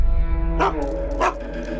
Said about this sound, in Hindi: भौंक क्यों रहे हो? बड़ों के सामने भौंकना नहीं चाहिए